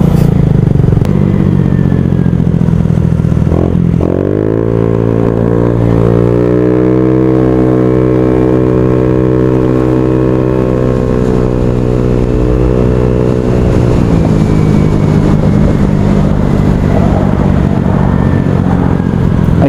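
A Honda Ruckus scooter rides through traffic, its small engine droning steadily close up, rising in pitch as it accelerates and holding a sustained whine before easing off, with road and wind noise throughout and no talking.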